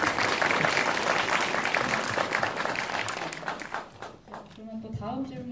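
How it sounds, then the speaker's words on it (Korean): An audience at a screening Q&A during the Bucheon International Fantastic Film Festival applauds in a dense, steady burst of clapping that fades out after about four seconds as a host starts talking. "박수 주세요."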